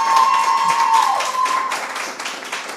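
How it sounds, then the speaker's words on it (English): Applause from the audience at an inter-schools debate competition, a burst of clapping that is loudest at the start and gradually thins, with a brief tonal whine cutting through early on. "but another round of applause."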